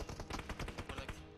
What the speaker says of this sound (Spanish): Tuvo unos disparos rapidísimos.